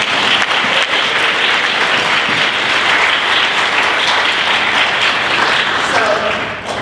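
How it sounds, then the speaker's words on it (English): A conference audience at a movement event gives sustained, full applause, a steady roar of many hands clapping close and loud throughout, easing only slightly at the very end. "That is worthy of an applause moment if I ever heard"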